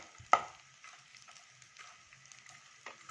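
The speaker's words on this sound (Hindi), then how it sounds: "थोड़ा थोड़ा डाल करके इन्हें फ्राई करना है" Edible gum (gond) frying slowly in a pan over a low flame for gur dry-fruit laddoos, a soft steady sizzle with one sharp crackle near the start and faint stirring, no voices.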